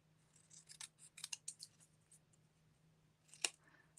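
Scissors snipping along a paper border, a quick cluster of small crisp cuts followed by one louder, sharper snip, close and quiet with no talking.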